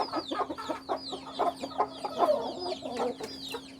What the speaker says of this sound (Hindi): ये आ गई हमारी जो टूटे पार वाली मुर्गी, ये अंडे शंडे दे रही है जी।